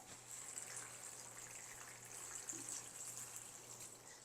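Water pours into a seed tray for starting sunflowers indoors, a quiet, steady trickling hiss throughout with no talking.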